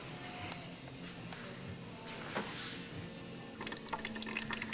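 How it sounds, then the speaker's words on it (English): Coolant drains from a loosened lower radiator hose on a Dodge Ram, a steady faint trickle with scattered drips and splashes that grow busier toward the end, no voices. "loosening up the lower radiator hose and pulling it back so it starts dripping out"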